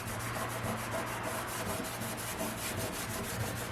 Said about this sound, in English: once you burnish the entire thing with a soft rag